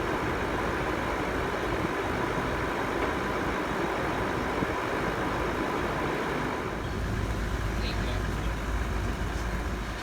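Car engine idling steadily through a low-side refrigerant regas during an air conditioning service, a continuous low rumble with workshop noise that holds even throughout.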